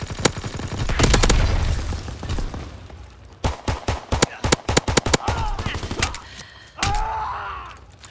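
Gunfire in Call of Duty: WW2: a heavy rumbling blast, then rapid bursts of machine-gun fire with sharp individual shots, loud and close, ending in another boom with a shouted voice.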